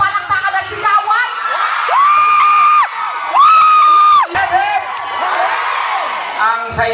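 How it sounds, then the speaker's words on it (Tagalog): Audience at a live show in Norway claps and shouts together, with loud sustained whoops and cheers rising in two long swells over steady applause, crowd noise filling the whole stretch. "isa naman bonggang-bonggang palakpakan na may kasama ang sigawan"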